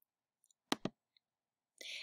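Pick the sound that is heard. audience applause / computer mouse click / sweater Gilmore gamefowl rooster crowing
computer mouse click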